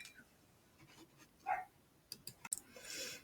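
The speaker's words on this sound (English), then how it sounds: "Sorry about the dogs barking on that last slide" Dogs in a household bark in a few short, faint, scattered yips and woofs, somewhat distant against a quiet background.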